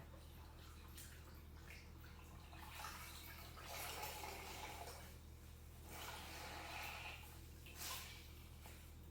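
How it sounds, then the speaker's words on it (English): A goldenrod-dyed silk cape is swished and rinsed by hand in a basin of hot water, giving close, uneven bursts of sloshing and splashing over a steady low background hum, with no talking. "I'm gonna rinse it off right here in this water."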